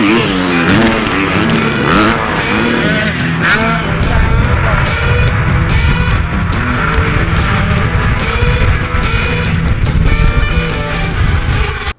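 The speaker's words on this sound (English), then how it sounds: "The rev limiter while airborne is a little over the top." Motocross bike engine screaming at the rev limiter in mid-air, a loud, continuous, stuttering high-rev buzz with rapid clattering pulses, close and dominant throughout, with other dirt bikes running behind it.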